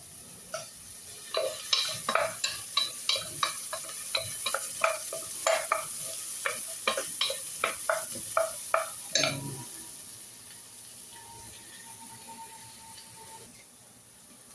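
Onions fry and sizzle in a pan while a utensil stirs them in a quick run of scraping, clinking strokes, followed by a steady sizzle on its own.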